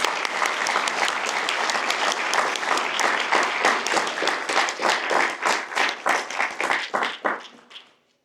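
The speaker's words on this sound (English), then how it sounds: "Let's give them a round of applause" Applause from a graduation ceremony audience honouring instructors, steady dense clapping that continues for several seconds and then trails off to silence at the end.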